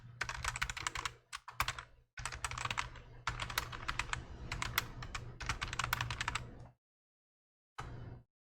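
Steady, rapid typing on a computer keyboard, close and loud, with dense clattering keystrokes in bursts separated by short pauses and a low hum underneath.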